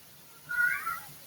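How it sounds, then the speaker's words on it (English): A pet cat named Carl lets out a single drawn-out meow, clear and fairly loud, close by with no talking over it. "And my cat is being very loud."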